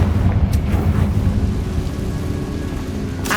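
A Confringo fire spell blasts in Hogwarts Legacy with a loud, rumbling roar that starts strong and slowly thins into a crackling wash, with a sharp burst at the very end.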